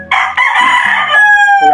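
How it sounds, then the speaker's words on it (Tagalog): A large gamecock crows loudly and close, one long drawn-out cock-a-doodle-doo with a clear rising and falling pitch. "Ito siya, malaking manok, no?"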